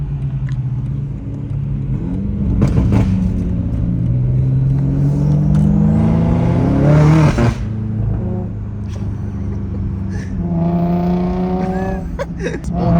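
A BMW M5 Competition with a straight-piped exhaust roars loud and close, its engine droning steadily and then climbing in pitch through hard revs before cutting off and rising again.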